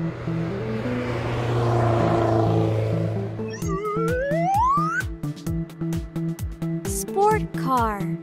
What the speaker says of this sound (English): Sport car.